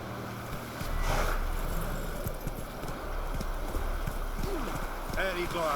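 Roach, a horse in The Witcher 3, clip-clops along at a steady rhythmic gait, hooves thudding close and loud over outdoor ambience, with a brief whinny and a voice talking over the hoofbeats.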